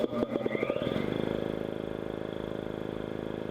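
A two-stage Ingersoll Rand air compressor starts up in a barn workshop, a few rough chugging strokes settling within a second into a steady, loud, rhythmic motor drone that runs on without pause.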